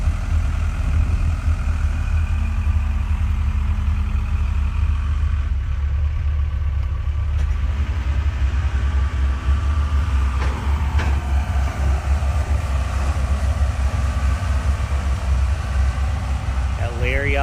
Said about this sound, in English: Got the tractors heading this way.